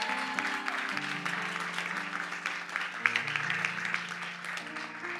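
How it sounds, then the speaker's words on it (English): A church congregation at a Sunday morning service in Seal Beach applauds, a steady wash of clapping heard over sustained organ-like chords that shift pitch beneath it. "Can we give him another round of applause this morning?"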